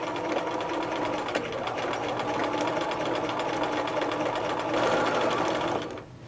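A sewing machine runs steadily for about six seconds while gathering fabric, its fast, even needle clatter loud and close, then it slows and stops near the end.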